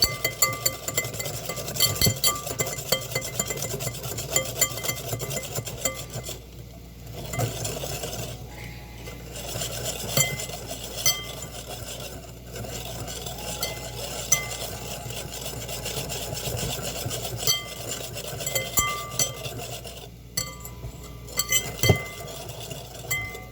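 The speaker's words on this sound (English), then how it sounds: "we'll stir the eggs and just keep on stirring up the egg mixture" Egg mixture stirred in a bowl makes repeated light clinks and scrapes of a utensil against the dish, steady and close with brief pauses.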